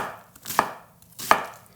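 Two crisp knife strikes land on a cutting board, about three quarters of a second apart, as an onion is roughly diced for homemade ketchup. They are close and clear, with no talking.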